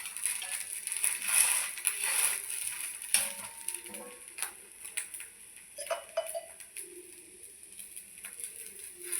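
Rice adai flipped in a pan on a home stove, giving soft scraping and light metallic clinks of a spatula against the pan over a faint steady sizzle, with no talk.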